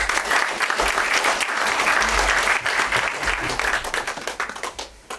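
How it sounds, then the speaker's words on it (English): Conference audience in Leeds applauding a speaker, a dense and steady roar of many hands clapping that thins out toward the end into scattered claps. "big round of applause for Simon Park"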